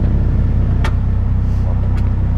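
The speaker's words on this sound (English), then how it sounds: "you just tap this button right here on the dashboard. Starts all by itself." A Polaris Slingshot engine idling after a push-button start, a loud steady low rumble with pulsing throb and a couple of brief clicks over it, close and without speech.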